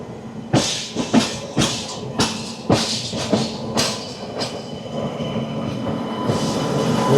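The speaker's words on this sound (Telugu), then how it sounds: "రివర్స్ పోతుంది ట్రైన్." A passenger train reversing slowly on the tracks while switching between lines on a journey to Tirupati, with a rhythmic series of sharp clacks from the wheels over rail joints, close and clear before settling into a steady rumble.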